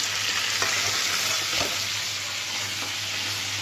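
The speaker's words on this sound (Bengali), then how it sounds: "মাছগুলো সব ভেজে উঠিয়ে নিলাম" Pangas fish frying in a pan gives a steady, close, loud sizzle throughout, broken by a few faint clicks of handling.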